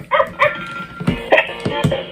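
Short yapping barks from a Peeing Pup toy dog during a children's game, several quick electronic yips in a loose cluster, near and fairly loud with little else around them.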